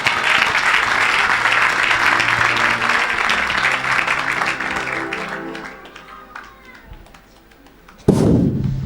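Loud, sustained applause fills a church worship service, dense and close for several seconds before fading to scattered claps, then a sudden sharp burst of cheering and noise returns at the end.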